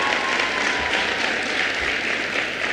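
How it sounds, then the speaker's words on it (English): At a high school class transition service, an audience gives a guest speaker a steady round of applause, a continuous, even wash of clapping with no voices heard over it. "Let's give her a round of applause."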